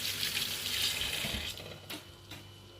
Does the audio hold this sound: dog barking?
no